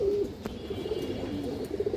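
A male Giribaz pigeon coos close by in a low, rolling murmur that runs through the whole stretch, with a brief sharp click near the start and no talking.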